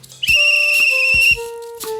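A train guard's whistle gives one long, shrill, steady blast lasting about a second, close and loud, followed by a softer, lower tonal tail.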